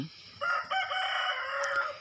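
A rooster crows loudly and close by, one long drawn-out cock-a-doodle-doo with no talking over it.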